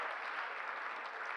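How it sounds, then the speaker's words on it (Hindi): An audience at a Haryanvi comedy poetry show claps in a soft, continuous patter, fairly faint and even throughout, with no speech on top. "एक बार तालियां बजाओ जरा जोरदार। तालियां थोड़ी बज रही हैं आपकी।"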